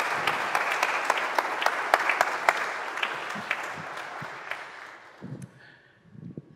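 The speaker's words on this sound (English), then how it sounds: "she really deserves a round of applause" A church congregation breaks into dense applause that holds steady, then fades out over a few seconds, followed by a brief spoken voice.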